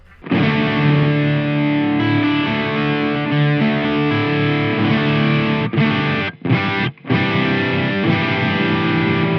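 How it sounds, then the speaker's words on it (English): Electric guitar played through the distortion channel of an Engl Gig Master 15 amp with a 4x12 cabinet impulse response, thick sustained chords ringing loudly with two brief cutoffs near the end. "it does feel like a direct signal when I'm playing the distortion on the distortion channel here."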